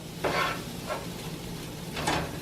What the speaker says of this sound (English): just keep stirring it up on the griddle, nice hot griddle